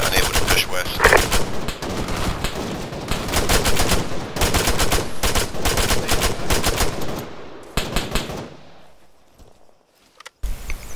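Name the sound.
suppressive gunfire in video game ArmA 3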